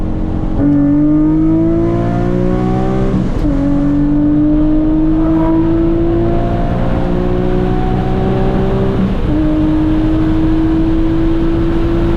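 A tuned E85 Nissan 350Z Nismo accelerates hard from inside the car. Its loud engine note climbs steadily in pitch, then drops sharply and climbs again several times, with a strong whine throughout and no talk.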